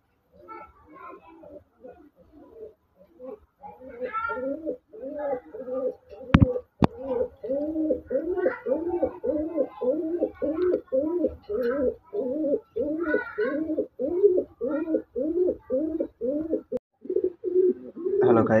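Chunna pigeons nesting on eggs coo in a long run of close, rhythmic throaty calls, with a sharp knock partway through and faint voices in the background.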